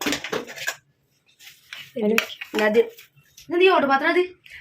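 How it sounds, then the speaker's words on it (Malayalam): Non-stick pans bought from Meesho are handled in a kitchen. Brief clattering at the start is followed by a person talking in bursts, with pan noise mixed underneath. "നോൺ സ്റ്റിക്കിന്റെ പാനുകളാണ് മീഷോന്ന് വാങ്ങിച്ചാണ്"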